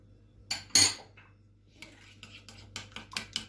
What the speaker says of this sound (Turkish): Arkadaşlar şöyle güzelce karıştıracağım.